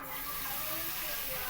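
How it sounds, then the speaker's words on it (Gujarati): Buttermilk pours into a cooking pan as a continuous, gentle splashing stream, close but faint, steady throughout with no break. "છાશ નાખી દેવાની."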